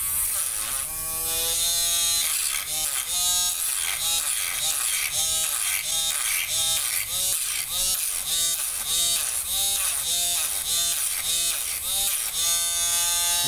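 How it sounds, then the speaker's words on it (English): A Dremel rotary tool sands a Glock pistol frame with a loud, high-pitched whine that pulses rhythmically as the bit is pressed on and eased off the polymer, close and continuous. "We're gonna sand this bad boy off."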